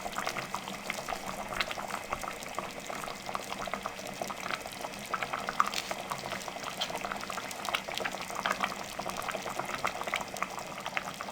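Fish qorma curry bubbling at a steady boil in a pot, a dense continuous crackle of popping bubbles and sizzle running evenly throughout, close and moderately loud with no voices.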